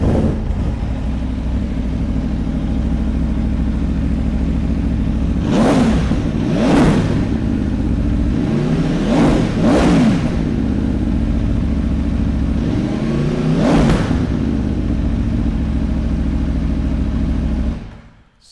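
An Aprilia Tuono V4 1100 Factory hyper naked motorcycle idles with a steady V4 burble, punctuated by five sharp throttle blips that rise and fall, loud and close, before the engine cuts off at the end.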